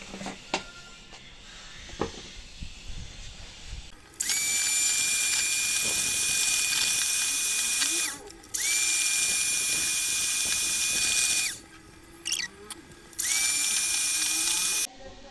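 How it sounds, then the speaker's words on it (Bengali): Electric hand beater whirring through cake batter with sugar and a pinch of salt for a vanilla cake, running in three long steady bursts separated by short pauses, loud and close. "হাফ কাপ চিনি আর সামান্য লবণ দিয়ে আবার বিট করে নেব"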